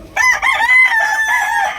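A three-year-old Leopard Hatch gamecock rooster crows once, loud and close, a drawn-out cock-a-doodle-doo lasting nearly two seconds.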